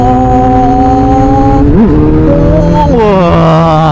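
Yamaha R15 motorcycle racing on a road in Lampung: loud, close, continuous engine drone with steady high pitch, a quick rev blip midway and rising revs toward the end.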